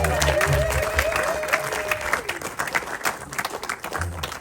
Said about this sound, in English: Patrice Nyambana, if you would just stand for a second and take your applause.